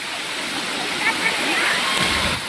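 The second falls of a waterfall at Busay makes a constant, full, rushing roar of falling water with splashing texture, loud and near.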